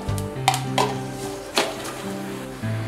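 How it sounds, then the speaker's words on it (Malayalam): Half a spoon of mustard seeds splutters in two spoons of hot coconut oil in a pan on a stove, with sharp sporadic pops and a sizzle, a few metallic clinks of a spoon against the pan. "1/2 സ്പൂൺ കടുകിടുക."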